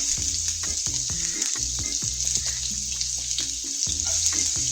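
Onion and garlic sauté in two spoons of oil in a kadai, a loud, close, continuous sizzle with intermittent stirring scrapes and low thumps.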